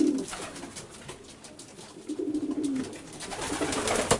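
Racing pigeons coo in a loft, with soft low murmuring calls coming in bursts against faint background rustle and clatter.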